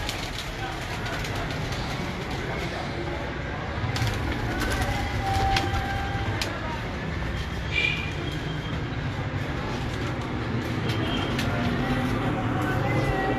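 Teddy pigeons in a breeder's loft cooing softly among background noise, with people talking nearby and a faint rumble of a passing train.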